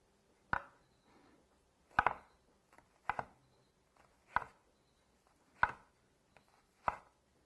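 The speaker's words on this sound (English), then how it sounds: "Let's dice these up." A knife dices unpeeled peaches for peach salsa on a cutting board, six distinct sharp chops spaced about a second apart, close and clear in a quiet room with no talking.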